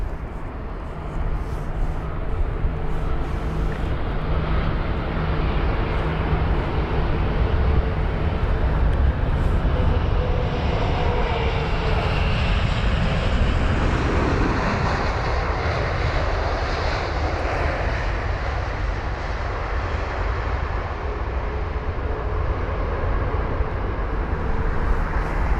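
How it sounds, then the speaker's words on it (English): A brand-new Airbus A350-1000 airliner arriving at London Heathrow after a long flight from Las Vegas, a loud sustained jet roar that swells and slowly shifts in pitch as it passes nearby, with no speech. "A350-1000, arriving from Las Vegas, a 9 hour and 15 minute long journey."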